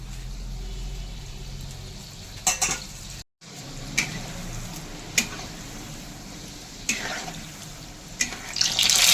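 Palm fruit fritters deep-fry in oil over lowered heat, sizzling softly with occasional louder clattering stirs and scrapes, a low steady frying hiss underneath.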